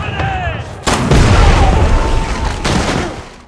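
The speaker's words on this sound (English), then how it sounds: "he was immediately greeted by bombs." Bombs exploding on a battlefield: a sharp blast hits about a second in, followed by a sustained roar of rumbling debris and a second burst later, loud and close, with faint high whistling tones early on.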